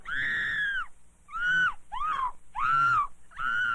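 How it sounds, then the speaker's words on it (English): A woman screams repeatedly in an old 16mm self-defense film, giving five loud, sustained high-pitched cries separated by short gaps, each one close and strained, with no other voices. "Remember, scream"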